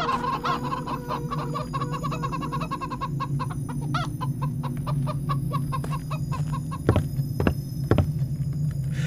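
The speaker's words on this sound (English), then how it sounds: "The chickens are out. How come the chickens are out?" Chickens cluck steadily in a video game, with a few rooster-like calls and louder squawks near the end, over a constant low hum of ambient background.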